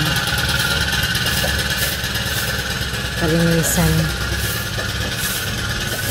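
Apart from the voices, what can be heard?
grass cutter trimming the yard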